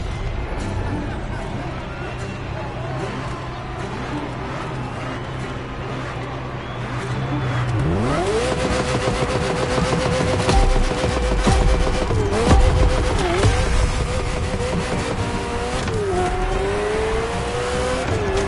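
Ferrari F40 supercar engine in The Crew Motorfest video game, a low drone that jumps into a loud sustained howl with gear-shift dips and pitch swoops, over steady road noise.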